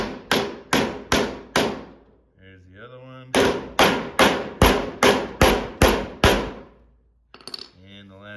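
A hammer taps metal barn door hardware to dent-mark bolt positions, in two runs of sharp, evenly spaced strikes close by, with brief talk in between.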